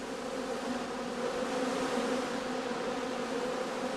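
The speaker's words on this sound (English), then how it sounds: "On sunny and warm October days, bees can still be seen flying, before they cluster together for the cold winter months." Honeybees fly around straw skep hives on a warm October day, a dense continuous buzzing drone that holds steady throughout with no other sounds.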